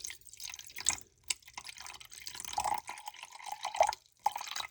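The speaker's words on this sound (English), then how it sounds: "I'm going to go ahead and I'm going to pour this in to the jar like that" Half a cup of water poured into a jar, soft trickling and dripping with uneven splashes and small glugs, close and fairly quiet.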